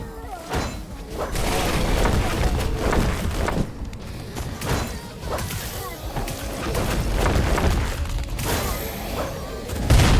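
Exploding zombie enemies blow up during a zombie raid in the action game Devil Hunter, with repeated booms, thuds and shattering bursts in quick succession, loud and close, while a player talks over the action.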